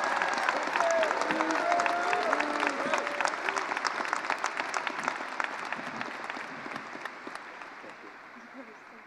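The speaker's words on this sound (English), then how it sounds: "Please give these two another round of applause." Applause from a high school audience at Centaurus High School for two people being honoured. Dense clapping opens the clip with brief cheers and voices mixed in, then thins into scattered individual claps and gradually fades over about nine seconds.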